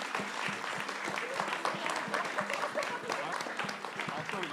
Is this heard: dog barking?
no